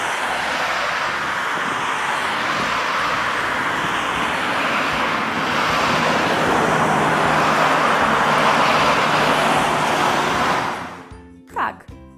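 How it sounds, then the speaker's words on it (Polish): Continuous roar of passing cars on a busy road, a dense steady wash of traffic noise that cuts off near the end, followed by a brief voice. "To szum przejeżdżających samochodów."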